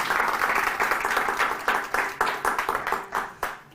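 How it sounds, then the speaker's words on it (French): An audience at a talk applauds a speaker, starting as a full burst of many hands and thinning into a few separate, distinct claps as it fades out. "un petit tonnerre d'applaudissements pour lui."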